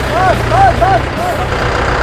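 A tractor engine runs on a road while giving way to another tractor, a steady low rumble held throughout, with voices over it.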